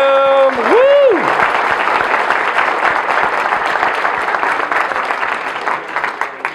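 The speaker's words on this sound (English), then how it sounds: "let's give it a round of applause for the three people who are speaker ready in the room" Applause and a few cheers break out from a room audience honouring three attendees, starting just after a brief sung or whooping voice and continuing as steady, dense clapping that thins slightly toward the end.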